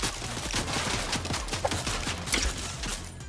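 Rapid gunfire from a gun in Fortnite, a steady loud stream of overlapping shots with sharp cracks punctuating the continuous battle din.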